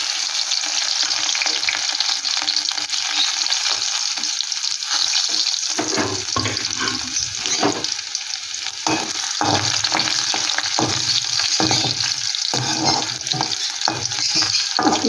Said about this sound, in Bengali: রসুনটা একটু ভালো করে একটু ভেজে নেব,